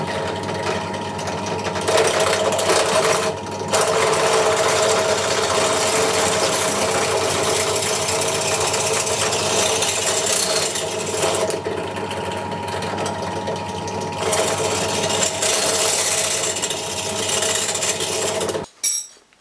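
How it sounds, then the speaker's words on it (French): Drill fitted with an 8 mm bit cutting through metal for a homemade tyre-machine assist arm: a loud, sustained motor drone with grinding bite, brief dips where pressure eases, then stopping at the end. "Donc là je suis en train de percer à 8."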